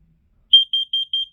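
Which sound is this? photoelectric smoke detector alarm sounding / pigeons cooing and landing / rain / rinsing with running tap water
photoelectric smoke detector alarm sounding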